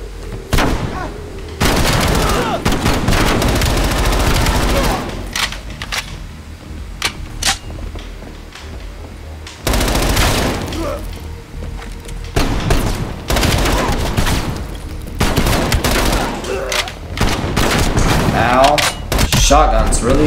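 Shotgun fire in the video game Call of Duty Black Ops Cold War, loud repeated blasts and heavy booms in dense, irregular bursts over sustained combat noise, with someone talking at times.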